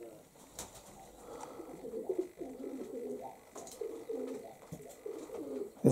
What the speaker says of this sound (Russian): Присел пониже на коленки, чтобы видеть голубей.